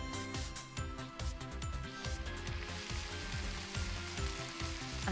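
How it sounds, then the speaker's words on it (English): Strips of bacon sizzle and crackle steadily in a frying pan in a cooking simulator game, a continuous dense hiss with scattered pops and no talk. "Yeah, listen to the frying."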